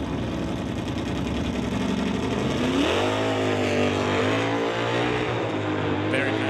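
A Dodge Coronet drag car lifts its front wheels on launch, its engine holding a raspy drone before surging upward in pitch as it accelerates hard, loud and continuous.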